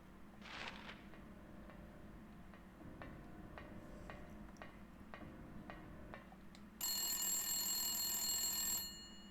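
Telephone ringing in the video game Silent Hill 2, a loud, shrill electronic ring that starts suddenly and holds for about two seconds after a stretch of steady, faint ticking over a low ambient drone.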